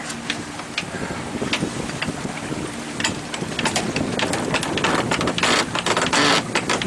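A winch handle cranks a sailboat winch, giving irregular ratcheting clicks over gusty wind noise that grows louder toward the end.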